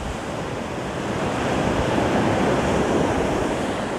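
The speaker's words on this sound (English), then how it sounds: "Can you imagine living here and just listening to these waves all night," Ocean surf at Pacifica near San Francisco in the evening, a broad, steady roar of breaking waves swelling slightly louder partway through, mixed with wind noise, continuous and without talk.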